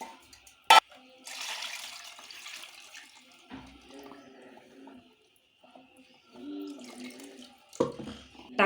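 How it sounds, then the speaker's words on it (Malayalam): Tamarind water poured from a jar in a home kitchen, with intermittent splashing and trickling bursts between quieter gaps and a few sharp knocks. "പുളി കഴിഞ്ഞ വെള്ളം ആദ്യം ജാറിലുണ്ട് ഒഴിച്ച് കൊടുക്കാം."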